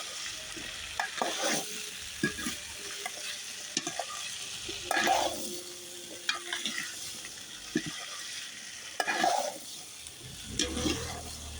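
Potatoes frying in a pan of oil with panch phoron, a close, steady sizzle broken by repeated loud bursts of stirring and scraping that come every second or two.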